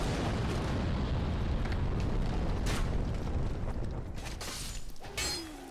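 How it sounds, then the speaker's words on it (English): Fire bombs launched by a giant exploding in the Dark Souls video game, a dense rumbling roar of blasts and crackling debris that holds loud for several seconds, then thins out with a few sharp bursts near the end. "the other giant who is launching all these giant fire bombs at us"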